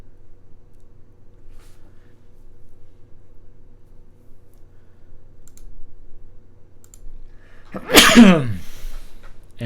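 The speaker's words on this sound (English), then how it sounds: "Sorry for the sneezes, guys." A single loud, close sneeze breaks an otherwise near-silent stretch, with faint clicking beforehand.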